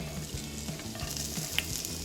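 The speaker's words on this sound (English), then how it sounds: "Let's get frying here." Chilies, garlic, ginger and scallion fry in hot oil in a pan, making a steady close sizzle with soft stirring scrapes and a brief bright tick, with no talking.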